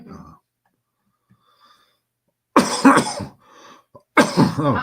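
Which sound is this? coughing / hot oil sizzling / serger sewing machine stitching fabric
coughing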